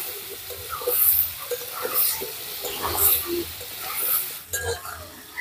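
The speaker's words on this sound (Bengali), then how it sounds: "এইবারে আমটা আমি এইভাবে আস্তে আস্তে করে একটু ভেজে নেব" Pieces of fresh, watery raw mango frying in oil for a sweet-sour pickle, with a soft continuous sizzle broken by repeated clinks and scrapes of a spoon stirring in the pan, close by.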